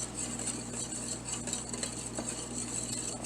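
Dry ingredients for madeleines, including baking powder and a quarter teaspoon of salt, whisked together in a bowl, giving a soft continuous scratchy stirring with faint light clinks, close and quiet over a low hum, without talk.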